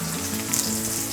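Small onions fry in a pan for a Kerala jackfruit erissery, giving a soft, steady sizzle with faint crackles and a brief stir partway through, with no voices.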